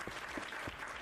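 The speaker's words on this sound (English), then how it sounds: "Where is my sound effects? Guys, give a round of applause to Millie." Short burst of clapping applause used as a sound effect during a Minecraft live stream, steady and moderately loud for about a second with no talk over it.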